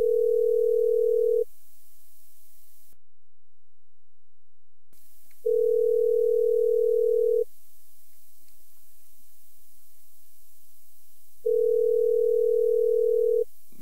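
Telephone dial tone before a live phone call on a news program: a steady, loud single-pitch tone sounding in three separate bursts of about two seconds each, with near-silence between them and no voices.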